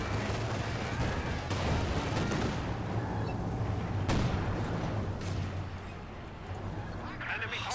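An incendiary strike lands in the Company of Heroes 2 strategy game amid a dense, continuous wash of battle noise with booms and gunfire bursts, loud and steady throughout, with a voice talking over it.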